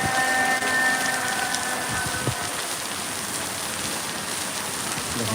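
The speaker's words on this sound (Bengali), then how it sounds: "আমি আপনি বৃষ্টি উপভোগ করতে চাই" Rain falls on a newly built, freshly concreted road as a steady, fairly close hiss. Brief tonal hums sound early on, and the downpour continues unbroken throughout.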